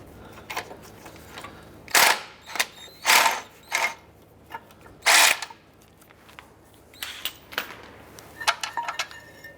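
A power tool works a bolt on the rear brake of a 2004-2009 Dodge Durango, sounding as several short, close bursts of whirring and ratcheting separated by brief pauses.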